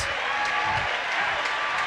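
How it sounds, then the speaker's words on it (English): A high school boys basketball crowd in a gym, Morristown versus Jefferson, cheers and applauds at a steady, moderate level as a continuous wash of clapping and voices. "The crowd is truly going wild."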